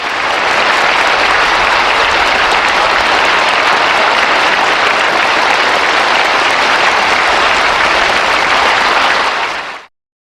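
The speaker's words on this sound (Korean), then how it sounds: "전당이 지켜보는 자리에서 표창을 받는 당 비서들을 열렬한 마음으로 뜨거운 박수로 축하해 주자고 말씀하셨습니다" Thunderous, sustained applause fills a hall at a Workers' Party of Korea conference of primary party secretaries, a loud unbroken roar of clapping from a vast audience that cuts off abruptly at the end.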